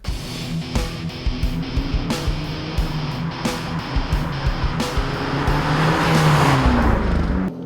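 A Fiat 500 Abarth Tributo Ferrari 695 with a button-operated gearbox drives along, its engine droning steadily and close with brief knocks, swelling louder and climbing in pitch toward the end.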